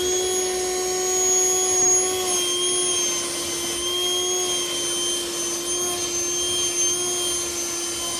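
Portable car tyre inflator running in vacuum cleaner mode: a steady, loud, close motor whine with a constant pitch throughout, with only slight wavering as it sucks.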